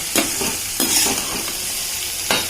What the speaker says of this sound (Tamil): அப்படியே வதக்க வதக்க